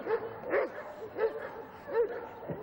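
A dog in a training ring at a 1990s Moscow 'Big Ring' event barks and yips several times in an uneven rhythm, moderately close, over a noisy outdoor background.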